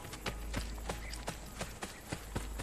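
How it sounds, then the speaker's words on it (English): Horse hooves clip-clop in a steady, quick rhythm of sharp knocks in Assassin's Creed 2, fairly close and clear over a low ambient bed of the game world. "Is that a horse? I think that's a horse."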